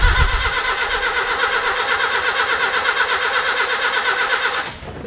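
Close, loud cranking of a Holden Gemini car engine, a rapid and steady starter rhythm that runs for about five seconds and then cuts off abruptly, with no talking.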